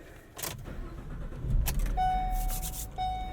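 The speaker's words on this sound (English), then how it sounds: "Traditional ignition key, none of this push button start nonsense, saves weight." Ignition key jangling in the cab of an extreme Ford Transit racing van, a few close metallic rattles over a low idle-like rumble, followed by a steady electronic tone.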